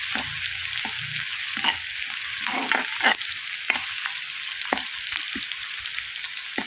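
Onion and cumin fry in oil with a steady sizzle, broken by scraping stirs and light clinks of a utensil, up close.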